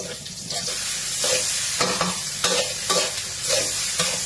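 Chinese kale is stir-fried in a pan, its dense sizzle broken by repeated rhythmic scrapes and tosses of a spatula about every half second, close and loud with no voices.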